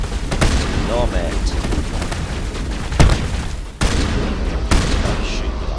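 Gunfire and booming impacts in the video game Mass Effect Legendary Edition: several sharp cracks and heavier bursts scattered over a few seconds, loud and close, with muffled speech and game noise underneath.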